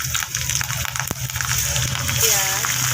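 Cumin, a dried red chili and garlic crackle and sizzle in hot oil for a dal tempering, a steady close frying hiss with a brief sharp tick, the sizzle swelling a little toward the end.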